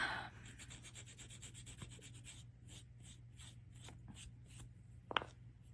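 Polymer clay is rubbed with sanding material in short, rhythmic strokes, quiet and close, ending with a brief sharper scrape.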